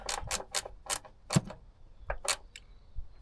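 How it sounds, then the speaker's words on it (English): Ratchet spanner tightening the mounting bolts of a Terrafirma TF707 spotlight on a Land Rover, a run of quick metallic clicking bursts, close and fairly loud, with brief pauses between strokes and no talking. "That's where having a nice ratchet spanner will come in handy."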